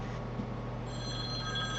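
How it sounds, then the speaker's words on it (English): A mobile phone rings nearby with a steady electronic tone, sustained tonal ringing over a low hum that becomes brighter and more layered midway. "Oh, that's my phone."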